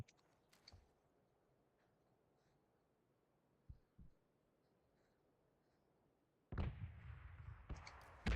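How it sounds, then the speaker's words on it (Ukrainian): Faint, distant gunshot-like pops in the game PUBG sound sporadically against a quiet background, followed by a louder burst of noisy crackling near the end. "Ну, та чуєш, стріляються?"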